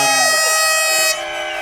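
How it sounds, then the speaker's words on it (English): Loud, sustained blasts of air horns at a motocross race, blaring close by with a rich, steady drone that dips partway through and carries on beneath background crowd noise. "America found air horns."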